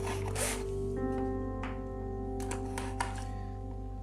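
Tape peeled off a cardboard box in quick rasping strips, close and fairly loud, with a faint hum underneath.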